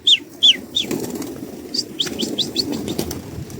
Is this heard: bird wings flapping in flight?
yes